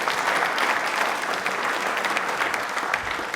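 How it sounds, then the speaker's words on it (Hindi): Dense, continuous applause from a studio audience on a televised quiz show, many hands clapping at once in a loud, even wash that holds steady before easing slightly at the end. "ये तालियां इनकी ईमानदारी के लिए हैं।"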